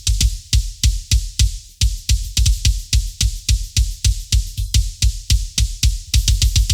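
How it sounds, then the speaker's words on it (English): Combined kick drum tracks from a mix, including an ambient side microphone and a sampled kick, thumping loudly in a fast steady stream of punchy hits, alone with no voice. "And together all the kicks sound like this."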